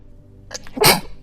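A single sharp sneeze, close and sudden, with a short breathy intake just before it in an otherwise quiet room.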